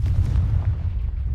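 A Confringo blasting spell explosion in the video game Hogwarts Legacy: a loud, deep, rumbling boom that fills the brief moment and fades slightly toward the end.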